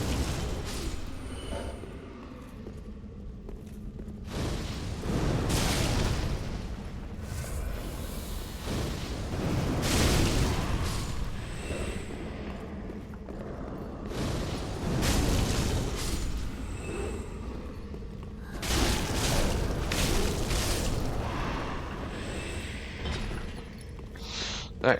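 Pyromancy fire spells strike clerics in Dark Souls 3, producing repeated heavy whooshing booms and fiery bursts that swell and fade every few seconds over a low rumbling game background.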